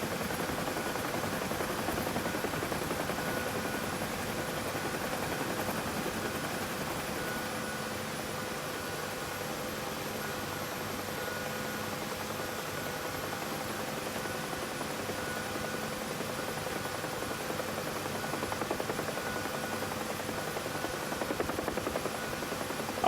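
A helicopter in the DCS flight simulator holding a steady hover, a continuous droning rotor and turbine whine with a constant high tone, even and unbroken throughout.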